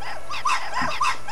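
A guard dog in the Hitman Blood Money video game gives a few short growls and rough barks in quick succession, close and fairly loud, with no one talking.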